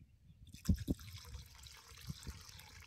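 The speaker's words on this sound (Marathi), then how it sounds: "आता ह्याच्यात जर वास जायला गरम पाणीच ओतून ठेवायचं." Hot water is poured over washed goat tripe, with a couple of soft splashes at first, then a quiet continuous trickle close by.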